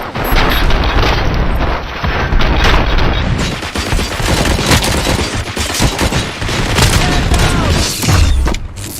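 Rapid gunfire and booming explosions from the RoboCop: Rogue City video game come in loud, dense bursts throughout, with repeated shots and heavy impacts layered together.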